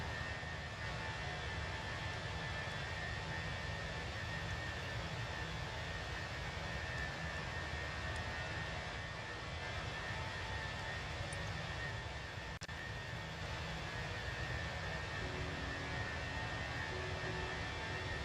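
An Airbus A320 takes off in a flight simulator game, producing a steady, broad roar of jet engines that holds at an even, moderate level throughout with no talk.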